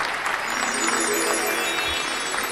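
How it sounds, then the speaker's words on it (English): Audience applause at a games industry forum, a steady wash of clapping from a seated crowd filling the whole short stretch at even loudness, with some background voices mixed in. "Round of applause, please."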